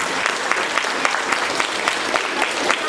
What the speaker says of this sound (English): give a big round of applause to those grown-ups who are at home